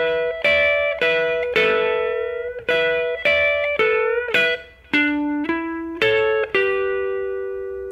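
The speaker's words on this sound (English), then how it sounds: "So that lick altogether really slow is this." Electric guitar plays a solo lick slowly: about ten distinct picked notes, some doubled, each ringing and sustaining clearly up close, ending on a long fading note, with no voices.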